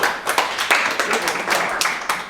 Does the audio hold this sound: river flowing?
no